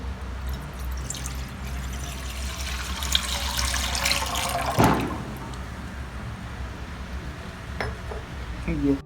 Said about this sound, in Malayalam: ഈ 1 കപ്പ് പാല് നമുക്ക് ഈ പാനിലേക്ക് ഒഴിക്കാം.